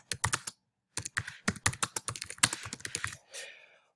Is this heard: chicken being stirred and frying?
no